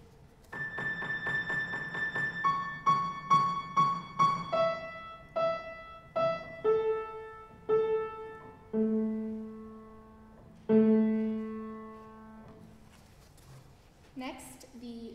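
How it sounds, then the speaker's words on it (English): A short melody played in retrograde during a concert rings out as a sequence of clear, sustained pitched tones, starting with quick repeated notes and moving to longer held notes that step down in pitch, each decaying cleanly. "One transformation is called a retrograde, and it would sound like this."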